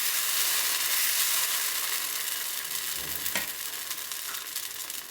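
Multigrain dosa batter sizzles steadily on a hot pan over a medium flame, a loud continuous hiss with a brief scraping stroke near the middle and no talk.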